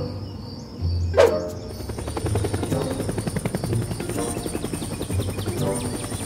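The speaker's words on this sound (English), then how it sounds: "Why is there a helicopter here?" A helicopter in a superhero video game chops steadily with a fast rhythmic rotor beat and high whine, preceded by a brief sharp clatter, continuing loud and close throughout.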